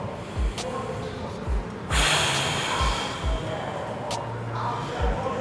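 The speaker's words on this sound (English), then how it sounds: "as I go to exhale, I'm breathing out like I'm blowing through a straw" Sharp, forceful breaths pushed out through pursed lips during a home bodyweight MMA workout, several short bursts and one longer hissing exhale, close and loud with no talking.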